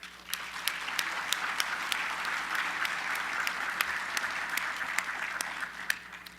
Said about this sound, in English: Please join me in a big round of applause for One America.